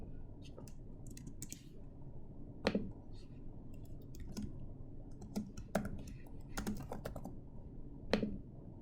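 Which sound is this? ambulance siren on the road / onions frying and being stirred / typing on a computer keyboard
typing on a computer keyboard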